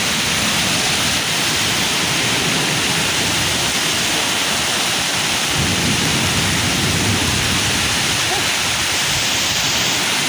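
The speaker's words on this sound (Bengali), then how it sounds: "বৃষ্টি শুরু হয়ে গেছে" Heavy rain pours down during a Kalbaishakhi storm in the village, a dense, loud, constant roar with rumbling thunder mixed in.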